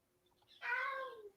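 A cat gives one drawn-out, clear meow that slides gently downward, close and alone, lasting under a second after brief near-silence.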